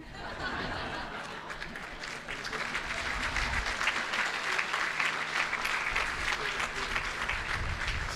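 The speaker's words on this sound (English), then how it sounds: "When in doubt, keep clapping." Audience at a school prize day breaking into sustained applause that swells and holds, dense and fairly loud, with scattered laughter and chatter mixed in.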